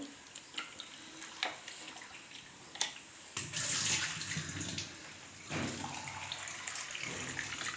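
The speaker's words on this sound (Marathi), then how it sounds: "इथे हे आलू ना असे पाच सहा वेळेस धुवून घ्यायचे एकदम स्वच्छ" Fresh potatoes are swished and rinsed in water in a kitchen, with irregular splashes, sloshing and clinks of the vessel, moderately quiet and close, with no talking.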